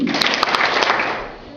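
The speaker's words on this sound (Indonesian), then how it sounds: "Jawabnya jangan pakai mulut ya, supaya gerak, pakai tangan, tepuk 3 kali" Audience of senior high school students in Jakarta clapping in reply to a spoken greeting, a dense burst of many hands that fades out over about a second and a half.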